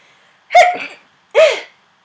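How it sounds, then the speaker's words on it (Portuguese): Two close, loud sneezes in quick succession, each a sharp burst that trails off, separated by a short silence in a quiet indoor setting. "peraí que eu vou espirrar"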